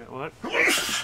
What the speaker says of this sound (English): Lately, I've been sneezing 5 to 9 times.